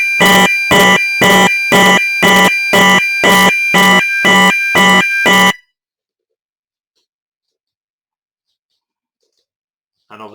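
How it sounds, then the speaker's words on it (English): Fire alarm sounders on a sounder circuit blare in a loud, steady pulsing pattern of about ten evenly spaced harsh tones, then stop abruptly into silence. "because we've got an alarm going on"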